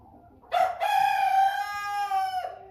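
An American Bresse chicken, a young pullet, gives a loud, drawn-out vocal call lasting about two seconds, close by and alone with no talking over it.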